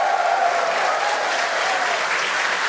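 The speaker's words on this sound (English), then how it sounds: "The crowd here in Hawthorne all went, ooh, at that first view of the blue flames from the booster." A watching crowd in Hawthorne reacts to the SpaceX Starship IFT-5 booster launch with a sustained wash of applause and cheering, loud and steady throughout.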